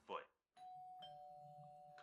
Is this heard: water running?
no